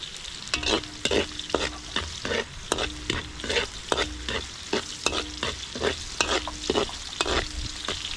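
Garlic and onion sautéing in a pan for chicken tinola, with steady sizzling frying and repeated scraping stir strokes of a utensil against the pan, close and continuous throughout.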